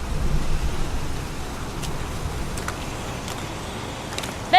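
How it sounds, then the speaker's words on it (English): Heavy rain pouring down outdoors in the video game Heavy Rain, a dense steady hiss with a deeper low rumble fading slightly after the first second. "It's pouring rain."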